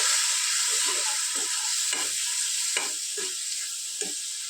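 Curd stirred quickly into a sizzling fenugreek seed curry in a pan, with a steady frying hiss and several soft, scraping stir strokes spaced through the sound.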